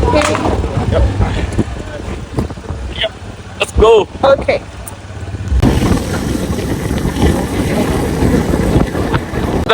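Engine rumble of a motorcycle under way with heavy wind buffeting, steady and close, while people talk briefly over it.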